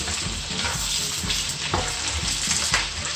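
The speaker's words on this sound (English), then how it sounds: "Just give that a quick stir." Carrots and cauliflower florets sizzling steadily in a hot pan while being stirred, with a constant close frying hiss broken by a few soft scraping and clattering stirs.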